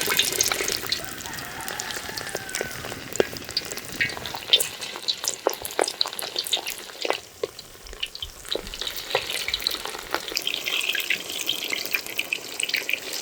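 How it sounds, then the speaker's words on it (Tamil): Raw mutton vada patties fry in hot oil, giving a continuous close sizzle with scattered sharp crackles and pops, moderately loud throughout with a brief dip midway and no talking. "அதனால் வடை போட்டு எடுக்க போகிறோம்"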